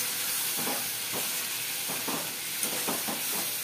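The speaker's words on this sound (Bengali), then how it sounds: "এবার আমি সামান্য একটু জল দিলাম, 3-4 চামচ টেবিল স্পুনের মতন" Pointed gourd curry hisses and sizzles in a pan after a few spoonfuls of water go in, a continuous steamy hiss broken by soft bursts of stirring and bubbling at close range.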